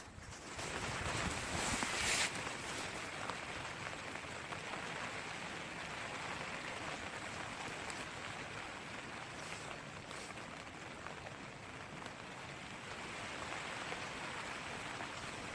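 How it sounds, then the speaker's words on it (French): Steady, even hiss of light passing rain falling outdoors by a river, constant and unbroken, with a few faint brighter patters near the start. "Petite pluie passagère"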